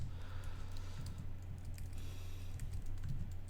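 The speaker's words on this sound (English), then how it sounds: "that's some keyboard ninjaing skills that I've developed over the years" Fast, continuous typing on a computer keyboard: dense, rapid key clicks rattle steadily for several seconds over a low background hum.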